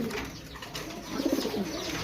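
A Pike Beauty pigeon, one of a breeding hen-and-cock pair, gives a short low coo close by against steady background noise.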